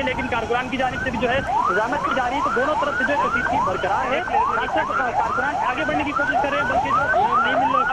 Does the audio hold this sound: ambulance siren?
yes